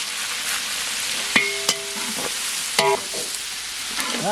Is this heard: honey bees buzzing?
no